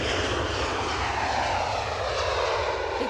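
An airliner arriving at Edinburgh Airport from Barcelona roars continuously, a loud, steady jet engine rumble heard close and alone throughout.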